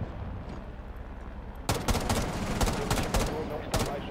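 Gunfire in the PC shooter Rainbow Six: after a quiet start, a loud burst of several sharp shots crack in quick, uneven succession, close and punchy, with a low murmur of game ambience beneath.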